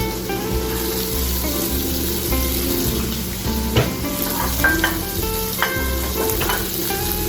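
Oil sizzles in a frying pan as Japanese garlic shrimp is cooked. A steady, loud crackling hiss runs throughout, close up, with a few light clinks of utensils against the pan and no talk.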